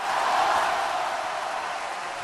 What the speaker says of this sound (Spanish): Eso merece un Vinsta aplauso que definitivamente se lo vamos a dar